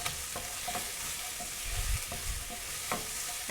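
Food fries gently in a pan over low heat, a soft continuous sizzle broken by a few light clicks of a utensil stirring, close and quiet, with no voices.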